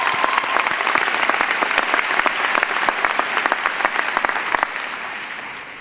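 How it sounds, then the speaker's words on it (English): Sustained audience applause at a Rutgers School of Business commencement ceremony, dense steady clapping from a large crowd that carries on for several seconds and then thins out toward the end. "please join me in a round of applause for her achievement"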